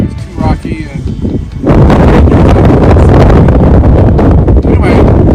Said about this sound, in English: it was incredibly windy today